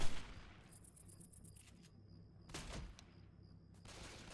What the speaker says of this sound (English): Looks like the survivors are shooting at something blindly